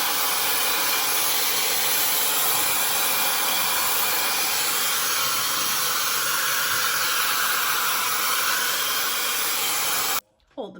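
A MESCOMB 5-in-1 hot air styler blows on its highest heat and speed setting, a loud steady rushing whoosh that holds for about ten seconds, then cuts off abruptly into a brief click.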